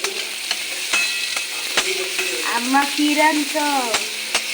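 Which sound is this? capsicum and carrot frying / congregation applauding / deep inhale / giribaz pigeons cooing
capsicum and carrot frying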